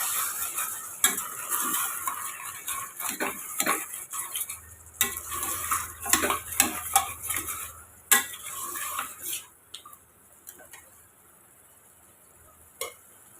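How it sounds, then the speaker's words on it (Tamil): Chicken sautéed and stirred in a pan for Ambur chicken biryani, with a steady sizzle, spoon scrapes and clinks against the metal; busy at first, then thinning to sparse taps near the end. "சிக்கனை நம்ம நல்லா வதக்கி விட்டுக்கலாங்க"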